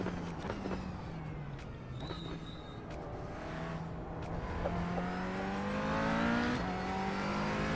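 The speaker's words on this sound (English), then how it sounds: "I think the engine noise feels okay." McLaren 570S GT4 race car engine in the iRacing sim, a steady droning note that climbs in pitch through the gears with brief shifts, constant and fairly loud with no talk.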